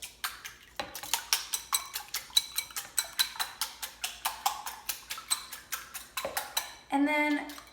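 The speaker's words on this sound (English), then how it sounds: "the first step is to beat 3 eggs in a bowl" Three eggs beaten in a bowl with a whisk or fork, a fast, even run of light clicking taps against the bowl, close and fairly quiet, with a brief pause before the beating resumes.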